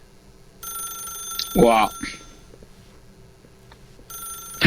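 Telephone ringing in The Stanley Parable video game, a steady electronic ring sounding in bursts at the start and again at the end, with a spoken voice breaking in briefly between them.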